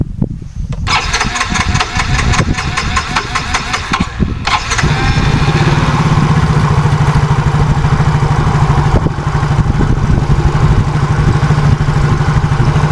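A Yamaha Mio scooter engine is cranked and fires up after a few seconds, then settles into a loud, steady, close idle with an even putter that holds to the end.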